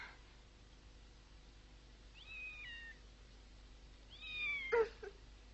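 A cat meows softly twice, a thin drawn-out cry followed by a louder plaintive meow, against a quiet background.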